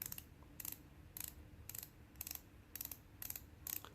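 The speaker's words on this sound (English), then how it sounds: "It is 120 click bezel." The 120-click bezel of a Citizen Eco-Drive Promaster diver's watch ratchets in quick, crisp bursts of clicks, about eight short groups evenly spaced, faint and close-up.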